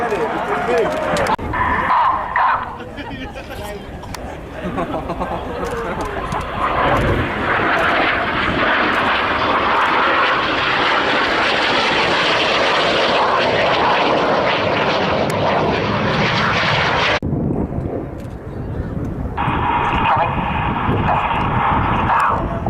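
Red Arrows display jets fly aerobatic loops at the Waddington air display. Their loud jet roar swells and fades as they pass overhead, then cuts off sharply, with a commentator speaking over it.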